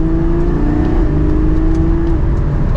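A Porsche 718 Spyder's engine drones loud and close from inside the car, holding a steady hum with a brief dip as it shifts gears while slowing, with no voices over it.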